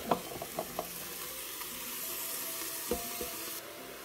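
Chopped onion dropped onto browned veal in a Cookeo multicooker, a soft steady sizzle of frying with a few faint stirring clicks and taps, quiet and close.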